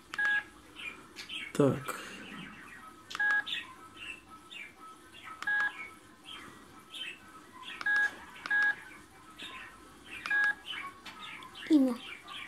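Keypad tones from a Digma Linx A170 mobile phone while a number is entered, a series of short, separate beeps spaced a second or two apart, with a person talking briefly in between.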